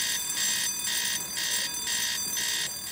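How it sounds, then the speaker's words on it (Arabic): Pulsing electronic alarm bell rings out during a comedy film scene, loud bursts repeating in a steady on-off rhythm about five times over a few seconds, alone with no talk. "ايه على طول كده جرس انذار"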